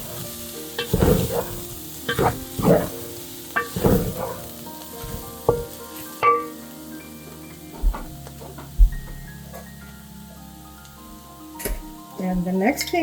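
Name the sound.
mixing beef samosa filling with black pepper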